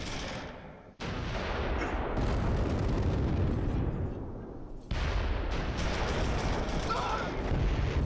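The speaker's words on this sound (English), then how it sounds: "All the mortars. Boom, perfect hits." Mortar shells burst in the WWII tactics game Close Combat III during a Kursk battle, giving deep sustained booming explosions with sharp onsets near one and five seconds and a rumbling wash between them.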